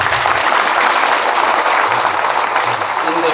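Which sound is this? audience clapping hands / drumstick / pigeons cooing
audience clapping hands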